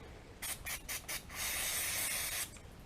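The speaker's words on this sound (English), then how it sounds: "Just spray this all down in there" Lubricant sprays from an aerosol can into the fuel gauge drive motor of a 1998 Chevy K1500: several short hissing bursts, then one longer continuous spray, close up and fairly quiet.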